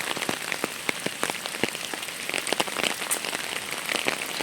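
Steady rain falls nearby, a continuous wash of drops with sharper individual splats scattered throughout.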